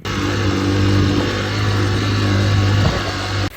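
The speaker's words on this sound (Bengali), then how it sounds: "দাঁড়ান আমি বাইকের র সাউন্ড আপনাদেরকে শোনাই" A motorbike engine runs steadily on a steep, hilly road, its low, constant drone loud and close throughout, with a brief shift in pitch near the end before it cuts off.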